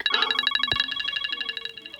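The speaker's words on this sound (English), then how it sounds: "Beacon." Beacon, a built-in iPad ringtone, plays a fast, bright electronic pattern of rapidly repeating chiming pulses with a short bell-like strike near the start, clear and alone with no voices over it.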